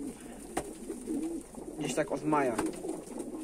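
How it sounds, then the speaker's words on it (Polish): Homing pigeons in a loft give soft, low cooing calls near the mic, heard beneath someone talking in Polish. "2018 roku mam pocztowe gołębie"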